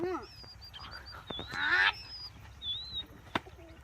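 Several short pigeon calls and honking squawks close by, with some flapping and rustling in between and a sharp click near the end.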